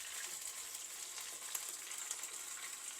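Chicken pieces frying in oil for sweet chili chicken, a steady fine hiss and crackle with scattered tiny pops, quiet and continuous throughout with no voices.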